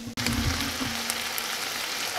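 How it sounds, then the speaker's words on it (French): Lardons sizzling in a frying pan on a home stove, a steady dense crackle and hiss of fat that runs without pause, close and fairly loud. "Mes lardons commencent à être pas mal, ils sont pas grillés du tout mais c'est normal"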